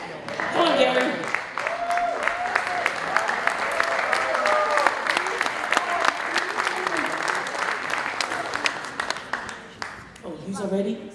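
A crowd at a Pacific youth crusade's Samoan night breaks into sustained applause, dense clapping with cheers and voices mixed in, loud and continuous throughout before thinning at the end.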